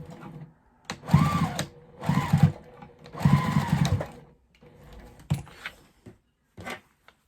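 Sewing machine stitching a quilted tote bag made from jelly roll fabric strips, running in three close, loud bursts of rapid whirring stitches followed by softer clicks and handling sounds, no talk.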